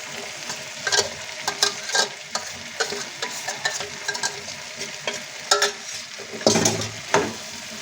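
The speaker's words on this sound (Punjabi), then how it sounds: "ਇਹਨੂੰ ਵੀ ਆਪਾਂ 5 ਮਿੰਟ ਵਾਸਤੇ ਚੰਗੀ ਤਰ੍ਹਾਂ ਭੁੰਨ ਲਵਾਂਗੇ" Soya chunks (nutri) and peas roasting in a pan for pulao, a steady sizzle broken by repeated scraping stirs of the spoon, loud and close with no talk.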